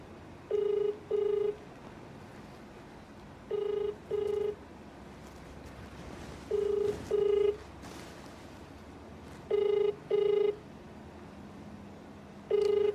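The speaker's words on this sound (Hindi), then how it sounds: "नीतीश जी, फोन उठाइए" A telephone rings in repeated double bursts, four pairs of electronic trills evenly spaced over a quiet background hum.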